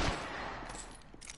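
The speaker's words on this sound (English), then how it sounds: "They're shooting at me!" Enemy gunfire in a video game, a brief burst of rapid shots that sounds faint and distant throughout.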